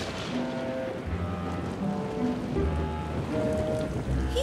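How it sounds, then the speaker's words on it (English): Heavy rain pours in a dense, steady wash, with low rumbling tones running underneath. "It's raining too hard."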